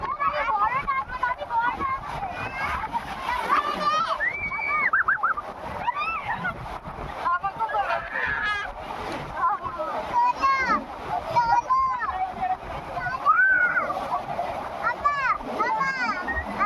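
Sea water at Digha beach splashes and washes steadily around the feet throughout, sitting beneath nearly continuous close talk, with a voice among the speakers.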